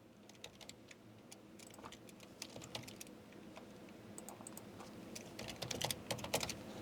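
Keys clatter steadily on a Dell Inspiron 3530 laptop keyboard, quick irregular taps picked up close and faint, getting a little busier toward the end.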